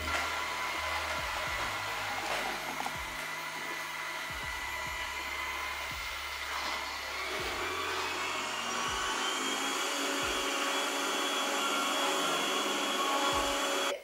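A Yeedi robot vacuum cleaner runs steadily across the floor with a whirring motor hum, its pitch rising slightly partway through as suction automatically increases, with occasional soft bumps.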